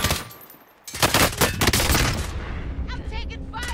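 Gunfire in Call of Duty Modern Warfare, a sudden dense burst of rapid automatic shots after a quiet start, loud and close, then fading into scattered distant pops under faint voices.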